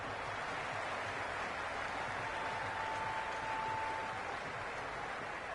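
Crowd at a T20 World Cup cricket match between Bangladesh and the United States in a video game, a steady wash of cheering and applause at constant loudness.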